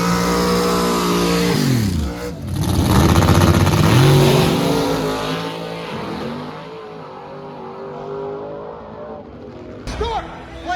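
A race car fitted with a new motor revs hard at a busy race night, its loud engine note rising and falling in sweeping pitch changes, close and dominant, easing off toward the end with a brief sharp burst.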